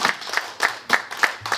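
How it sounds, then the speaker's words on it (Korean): A short burst of audience clapping at a lecture, with a few distinct sharp claps standing out, moderately loud, no voices. "뜨거운 박수 부탁드리겠습니다."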